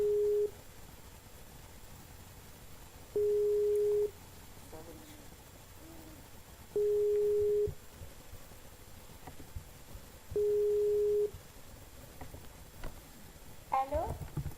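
A telephone ringback tone while a call is being placed, four evenly spaced steady tones repeating about every three and a half seconds, clear and close, with faint background noise and a voice at the end.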